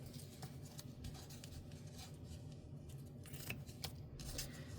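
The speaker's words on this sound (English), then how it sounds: "So now I'm just going to take these and trim them down." Scissors trimming material down, a faint series of irregular snips and small clicks over a low background rumble, quiet and close.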